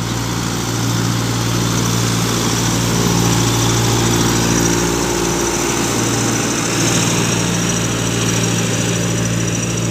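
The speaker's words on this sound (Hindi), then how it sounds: "अभी मेन चढ़ाई पे चल रहा है ट्रैक्टर।" Massey Ferguson 1035 40HP tractor pulling a loaded trolley up a steep slope, its engine droning steadily and loudly throughout with no talk over it.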